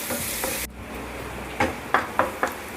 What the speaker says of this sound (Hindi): इसे हमें जब तक चला के भूनना है, जब तक कि हमारे जो टमाटर हैं वो अच्छे से सॉफ्ट नहीं हो जाते हैं